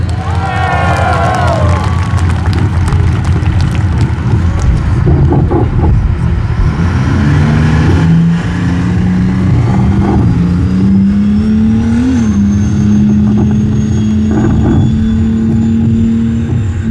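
An M551 Sheridan light tank with a supercharged engine drives past at an outdoor museum event, its loud engine droning and rising in pitch under a cheering crowd and a distant announcer.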